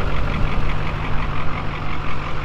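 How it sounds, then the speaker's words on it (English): A Chevy Silverado 2500HD pickup's Duramax diesel engine, tuned to 696 HP, idles close by with a steady, low, rumbling chug and no other sounds. "up here, great sound with that Duramax as well"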